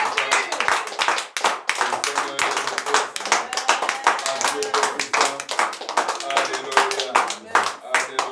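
A congregation clapping in a fast, steady rhythm, loud and close, with voices talking and calling out over the claps.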